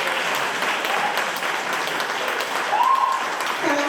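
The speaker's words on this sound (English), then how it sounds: "Hand of applause." Dense applause from a large crowd, steady and sustained throughout, with a few scattered whistles or cheers rising above the clapping.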